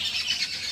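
Birds squabble in a home yard, giving a brief, bright burst of shrill chirping and squealing calls, close and continuous under steady background noise.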